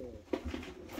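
A black-tailed pigeon coos softly in a short, low, rounded call, two or three gentle pulses close by with faint background noise and no talk.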